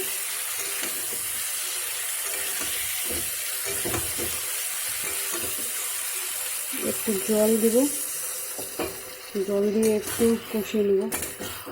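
Goat liver and fried potatoes are sautéed together in a pan with a soft sizzle and clattering stirs, then louder bursts of scraping and tossing follow near the end. A person talks over parts of it.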